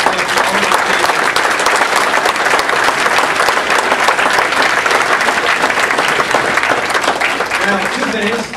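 Loud, sustained audience applause for political candidates at a forum, dense continuous clapping from a large crowd filling the room, close and unbroken, with faint voices mixed in.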